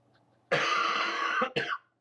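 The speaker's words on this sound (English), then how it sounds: "Oh, I can feel a cough coming." One harsh, sustained cough of about a second, followed quickly by a short second cough, loud and close against near silence.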